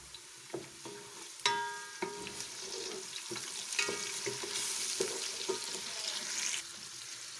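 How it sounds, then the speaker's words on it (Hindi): Oil sizzles and crackles steadily in a pan as garlic and ginger fry, with repeated clinks of a utensil stirring close by. "लहसुन अदरक को भून लिया है"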